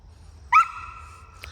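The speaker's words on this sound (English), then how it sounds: "What an obnoxious bark. This is the worst bark." A single short, tonal bark from a dog on a farm, loud and close, rising sharply and then trailing off, with a faint low rumble of background noise beneath.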